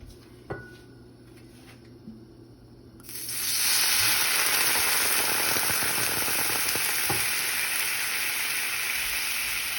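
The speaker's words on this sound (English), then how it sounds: "The first thing we want to do is add white wine." White wine is poured into a hot pan after fish is fried, bursting into a loud, sustained sizzle and steamy hiss that fills the kitchen after a few light clinks of cookware.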